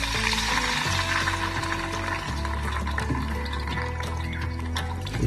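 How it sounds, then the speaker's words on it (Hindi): Water pours into a pan of light-browned frying onions, setting off a loud, busy sizzle and bubbling that runs continuously with a faint tonal hum underneath and no voices. "अब हम इसमें थोड़ा सा पानी ऐड करेंगे।"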